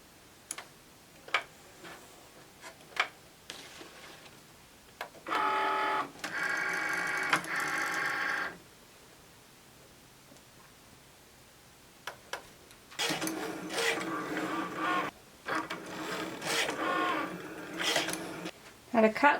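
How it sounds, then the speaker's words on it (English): Cricut cutting machine slicing leather with a rotary blade, heard as two bursts of steady mechanical whirring and ticking from the carriage, separated by quieter stretches with a few clicks. "I used that to actually trick it into cutting the leather with the Rotary Blade."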